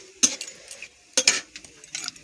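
Dalma being tempered in a pan, with two quick clusters of sharp metallic clinks and scraping stirs separated by a short pause, near and fairly quiet, ending in lighter scrapes.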